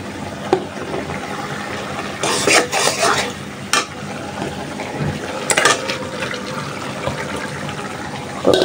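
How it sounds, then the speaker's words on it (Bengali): Spice masala being stirred and sautéed in a pan for a Bengali dish of large fish head cooked with bottle gourd: steady close scraping and stirring over a soft sizzle, with a few louder clattering bursts of spatula against the pan. "এখন মশলাটা ভালোভাবে কষাই নিই।"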